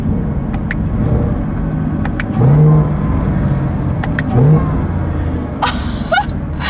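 Modded, untuned Chevrolet Camaro ZL1 driven on the road, engine rumbling low and rising in two short revs during downshifts, with a few sharp clicks and knocks inside the cabin, loud and close.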